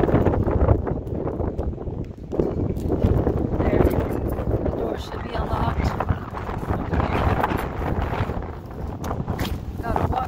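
Constant roaring wind buffets the microphone, a loud rumbling gust noise that never lets up, with faint voices underneath.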